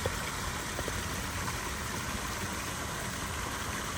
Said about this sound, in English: There's the creek that flows into the pool.